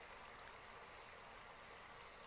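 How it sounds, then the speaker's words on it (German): A shower runs in the video game Stifled, a faint, steady hiss of spraying water continuing without break and with no voices over it. "Da ist jemand unter der Dusche."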